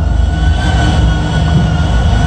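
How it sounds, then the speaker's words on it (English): A long intermodal freight train powered by Florida East Coast Heritage locomotives running in a Roblox train simulator: a loud, continuous rumble with a steady rolling roar and no pauses, up close. "They're gonna take this long intermodal train for a spin."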